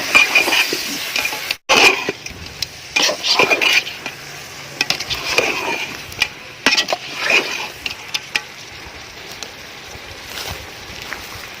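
Curry leaves being stirred into a biryani masala in a pan, with repeated loud scraping and clattering spoon strokes over a continuous frying hiss.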